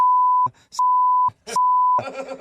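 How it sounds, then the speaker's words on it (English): Radio censor beeps, three long steady tones each about half a second, covering a name spoken on air, with short bursts of a voice between them and talk resuming at the end. "You didn't understand any of that because that was all beeped."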